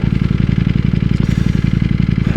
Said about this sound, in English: how it is to commute on a superbike or a Ducati PANIGALE V4